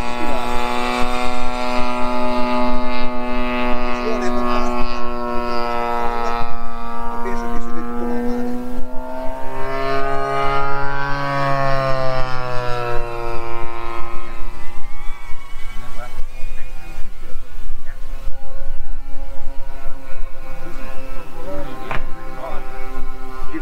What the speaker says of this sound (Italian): c'è in volo un modello, un aereo